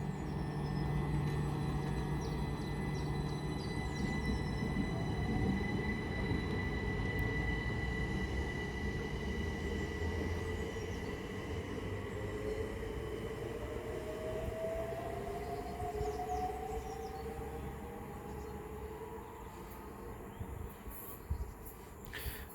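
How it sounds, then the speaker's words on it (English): A Great Western Railway service from Didcot Parkway to London Paddington pulls out of Pangbourne station, a long steady rumble with a slowly rising whine, while insects buzz faintly in the background. "the 1052 Great Western Railway service from Didcot Parkway to London Paddington"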